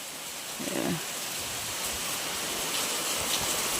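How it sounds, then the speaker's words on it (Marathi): Unseasonal rain falls steadily with a soft, even hiss, faint and continuous, with no voices. "आज बघा चांगला पाऊस पडतोय"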